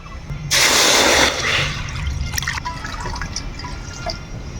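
Water is poured onto washed chana dal in a pot for boiling, a loud close splashing gush lasting under a second, followed by faint drips and trickling.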